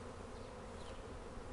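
A honeybee swarm fills the air with a dense, steady buzzing of many wings, loud and close throughout, with no talk over it.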